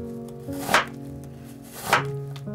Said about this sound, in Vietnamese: Mình xắt mỏng ra.